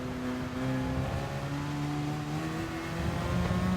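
Race car engine in a racing video game accelerating hard out of a wet corner, a steady loud drone with rising pitch as power comes back on, with no voices over it.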